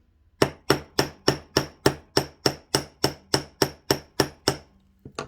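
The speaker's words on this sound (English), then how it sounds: "I'm going to use a smaller headed hammer on this" A small hammer taps metal wire for ear hooks about fifteen times in an even, quick rhythm, each strike sharp and ringing, close up, followed by a softer knock.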